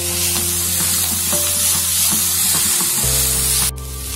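Vegetables for veg noodles fry loudly in a pan, a steady close sizzle with stirring scrapes; the frying shifts and briefly cuts out near the end.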